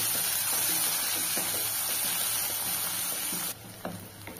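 Two finely chopped large onions sautéing in a pan for channa biryani, a steady broadband sizzle and hiss that holds close and even, then drops in level near the end with a few faint utensil clicks.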